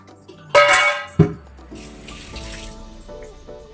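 Water splashes from a kitchen tap as a pan or bowl is rinsed during cooking, with short gushes, a sharp clink of a vessel, and quieter trickling in between, near and alone.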